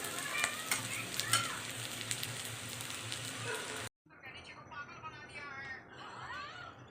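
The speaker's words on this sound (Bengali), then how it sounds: "এইটাও আস্তে আস্তে ভেজে নেব।" Batana pakoda, pea fritters made with gram flour and Maggi, frying slowly in oil, a close, steady sizzle that drops out briefly and then returns, with someone talking over it.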